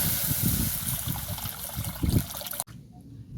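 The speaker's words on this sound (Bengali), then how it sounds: "এবার আমি দিয়ে দেবো কড়াতে জল।" Water pours and trickles steadily into a wok holding lightly fried rohu fish pieces, a continuous splashing stream that cuts off abruptly near the end, leaving a faint quieter hiss.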